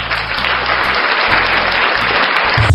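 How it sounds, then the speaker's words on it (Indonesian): Applause from a congregation at an Indonesian religious gathering, a dense, steady wash of clapping filling the whole stretch, loud and close, with a low hum or music underneath. "Tepuk tangan buat Bang"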